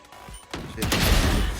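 Burst of gunfire in the tactical shooter Valorant, rising into a loud, dense volley of shots over the second half, with faint voice chatter beneath.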